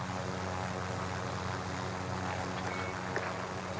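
A helicopter idling in a video game, a steady, droning engine hum with constant rotor throb, even and unbroken at moderate distance with no talking.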